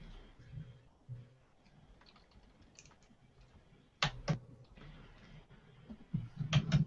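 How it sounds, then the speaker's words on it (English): Someone types frantically on a computer keyboard, producing scattered quiet clicks and taps at an uneven pace, with a few sharper, louder keystrokes toward the end. "Since Calvin is frantically typing in his goals for next week,"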